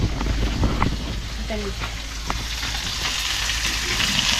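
Steady sizzling of food frying in a pan, a continuous hiss with faint clinks, no talking.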